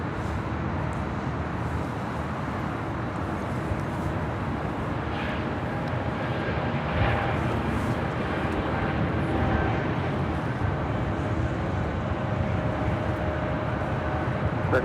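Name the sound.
Breeze Airways Airbus A220-300 departing from LAX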